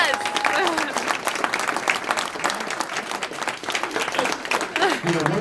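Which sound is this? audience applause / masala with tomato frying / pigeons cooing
audience applause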